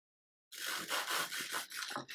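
A knife cuts through a crispy fried Ramadan snack, a close, dry crunching and rasping that starts abruptly and breaks into several short crackling bursts.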